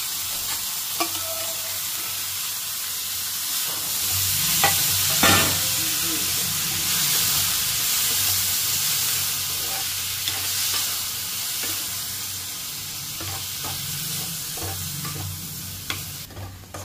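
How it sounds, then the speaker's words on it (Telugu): Chopped tomatoes, onion and green chilli fry in a pan, with a continuous sizzle and repeated scraping and clattering as the mix is stirred close by. "టమాటోస్ మొత్తం, ఆనియన్, పచ్చిమిర్చి అవన్నీ వేసాం కదా, మొత్తం కలపాలన్నమాట."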